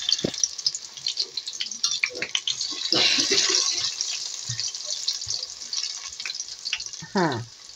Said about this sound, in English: the oil is hot and we're going to be putting plantain inside. I have to fry that.